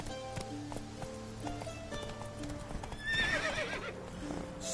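Roach, a horse in the video game The Witcher 3, gallops with rhythmic hoof clip-clops and a whinny over game music, close and steady.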